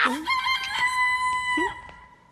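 A rooster crows loudly and close in a single drawn-out cock-a-doodle-doo, with a faint cluck at the start and the call fading at the end.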